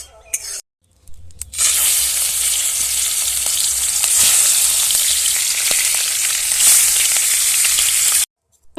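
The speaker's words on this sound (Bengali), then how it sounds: "আমি মাছটাকে প্রথমে ভেজে নেব কড়াইটা গরম করে নেব" Magur catfish fries in a hot wok, giving a loud, steady sizzle and spatter that runs for about seven seconds, with brief quiet moments at the start and end.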